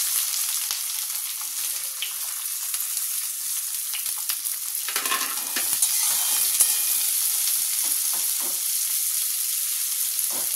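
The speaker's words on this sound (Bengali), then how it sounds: "এবার আমি আমার আন্দাজ মতো যে পেঁয়াজ কেটেছিলাম ওটা দিয়ে দিলাম।" Chopped onions fry in oil with black cumin and green chillies, a steady close sizzle and crackle that swells when the onions hit the pan, with some stirring and no voices.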